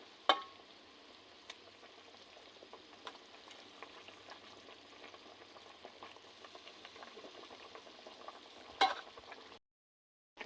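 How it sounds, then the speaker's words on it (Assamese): Fried fish pieces dropped into a simmering tomato curry, giving a steady, even sizzle and bubbling with a few sharp clicks and scrapes. The sound is close by, with no voices, and cuts off at the very end. "এতিয়া উতল অহাৰ পিছত মই ইয়াত মাছ দি দিম"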